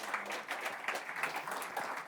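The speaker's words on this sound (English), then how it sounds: "let's give him a warm applause and welcome Jeff" Audience applause welcomes a speaker at the NG-BE 2021 Angular developer conference, with brisk, continuous clapping from a moderately sized crowd and nobody talking over it.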